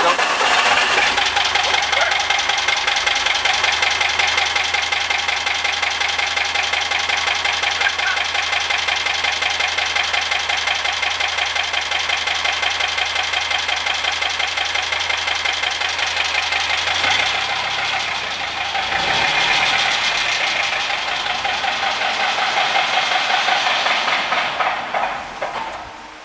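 A GKE 68 engine turns over and keeps running, a dense steady mechanical drone with a knocking edge that holds for the whole stretch, loud and close, with a brief dip and shift in tone near the end.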